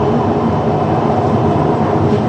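Steady rumble of a Riyadh Metro train riding along the rails, a continuous close, even drone of wheels and motor with no voices.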